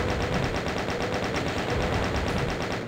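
Rapid, sustained chain gun fire from the Doom 2 shooter game in its Voxel Doom 2 version, a dense unbroken stream of evenly spaced shots held at steady full loudness for the whole stretch, with no voices.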